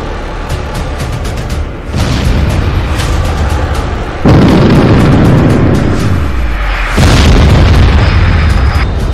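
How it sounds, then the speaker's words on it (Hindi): Sustained roaring blasts from an exploding Storm Shadow missile depot in western Ukraine, loud and continuous with several sudden surges in intensity. "पुतिन की तरफ से ट्रिपल अटैक में स्टॉर्म शैडो मिसाइल के गोदाम उड़ा दिए गए हैं"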